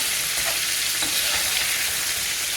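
Shrimp tempura frying in hot oil, a dense steady crackling sizzle close up and continuous throughout, with faint stirring motion underneath and no voices.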